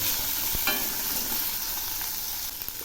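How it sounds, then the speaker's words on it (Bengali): Red bell pepper and peas frying in a pan for semolina upma, stirred with a steady, close sizzle that fills the whole stretch, plus a few light spatula clicks. "এখন এগুলিও একটু নেড়ে দিচ্ছি।"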